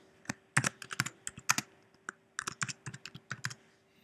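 Typing on a computer keyboard: a close, quick run of crisp key clicks in uneven bursts with a brief pause midway, no talking.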